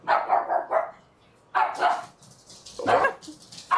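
A dog barks close by in short bursts of several sharp barks, with pauses and a few softer yips between them.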